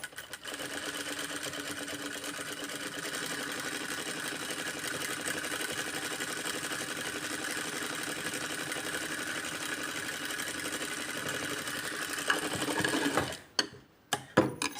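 A sewing machine runs steadily, stitching a stretchable fabric with a continuous mechanical whir that holds for about thirteen seconds before stopping, followed by a few faint handling clicks.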